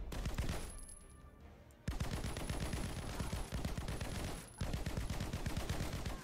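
Rapid automatic gunfire in the PC game Snake Force, dense bursts of shots hammering in quick rhythm, broken by two brief pauses, loud and continuous with no talk over it.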